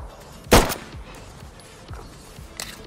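A single sharp M9A1 pistol shot in the tactical shooter Ready or Not, a loud crisp crack with a short tail, followed by faint handling clicks and low thuds.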